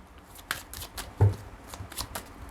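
Tarot cards shuffled by hand in a series of quick crisp riffles and snaps, close and alone, with a sharper thump of the deck near the middle.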